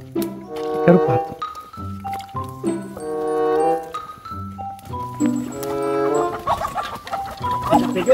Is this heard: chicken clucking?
yes